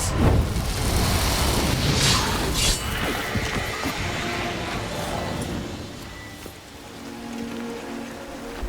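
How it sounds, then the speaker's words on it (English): A loud booming magic explosion in The Witcher 3 bursts out and crackles, then fades into a long, rumbling, echoing tail of debris-like noise. "A magic explosion of some sort."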